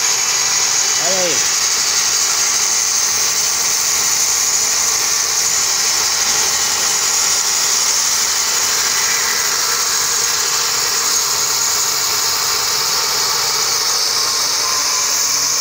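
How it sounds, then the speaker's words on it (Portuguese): A band saw slices a log into boards 3 cm thick, giving a steady, loud mechanical whine and drone that runs unbroken throughout, with a brief voice near the start. "tá serrando a tora aqui, ó, na Serra Pipa"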